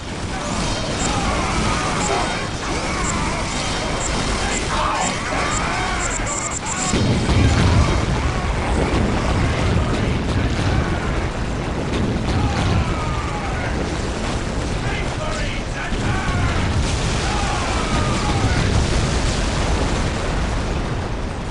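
Bombs go off in the Warhammer 40k: Dawn of War Dark Crusade battle, heavy booming blasts rolling over dense combat noise, with a big surge near the middle and steady rumble throughout.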